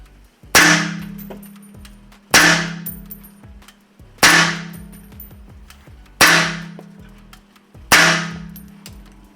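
An MK14 Mod 0 rifle is test fired five times at steady intervals of about two seconds, each shot a sharp, loud crack with a metallic ring that decays into silence before the next.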